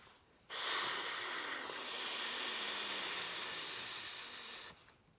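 A voice imitates a snake's hiss: one long, loud, steady sss that starts abruptly, holds for about four seconds and cuts off cleanly, with no other sound.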